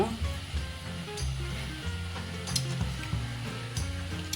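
Dal lentils dropped into hot oil in a pan while cooking pakoda kuzhambu, a close, continuous sizzle with stirring scrapes and brief crackles.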